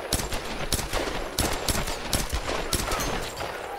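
Gunfire in the video game Tomb Raider, a loud close stream of rapid shots and automatic bursts with sharp, irregular cracks continuing throughout, no voices heard.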